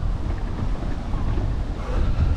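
Strong, steady headwind roars across the microphone while cycling along a coastal road on Saaremaa island, a continuous low buffeting rumble with no break for the whole stretch.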